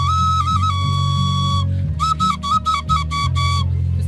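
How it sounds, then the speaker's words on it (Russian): A handmade toy pipe whistle from a craft fair plays a loud, steady tone, then a quick run of short bright toots with a little wavering pitch. "Вот это дудочка."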